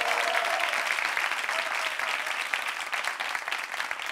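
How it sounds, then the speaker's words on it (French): Audience applause fills the room at the close of a French-language show, a dense, steady clapping from a live crowd that carries strongly throughout without a break. "Applaudissements pour vous-même, chers amis du public."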